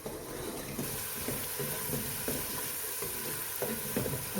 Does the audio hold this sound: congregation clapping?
no